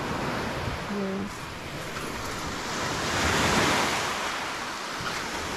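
Ocean surf crashes and rushes at high tide on a dark evening beach at Calatagan, a continuous broad roar that swells in the middle, with wind buffeting the microphone and no clear talk.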